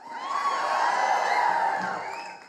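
A large outdoor political rally crowd in Georgia cheers and whoops in a steady, swelling roar that holds loud throughout and eases slightly at the end.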